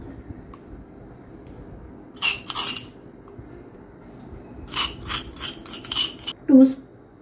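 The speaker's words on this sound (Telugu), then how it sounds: "ఇవన్నీ మనం ఈ రోట్లో వేసుకొని బాగా దంచుకొని దీంట్లో వేసుకోవాలి." Ginger and other ingredients pounded by hand in a stone mortar with a pestle for wheat atta dosa batter, heard as two short bursts of clattering, clinking strikes separated by quiet, close and moderately loud.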